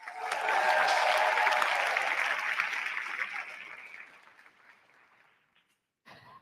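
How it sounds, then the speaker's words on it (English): A debate audience applauds loudly and steadily in a hall. The clapping fades out over several seconds, and then a voice briefly begins. "and a round of applause, please."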